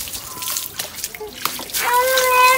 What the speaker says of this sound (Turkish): Sıcak su da iyice dolsun.